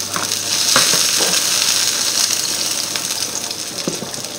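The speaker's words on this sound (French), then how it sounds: "on fait revenir notre oignon." Chopped onion fries in a pan with a loud, steady sizzle and crackle, joined by a few scraping stirs, up close with no talking.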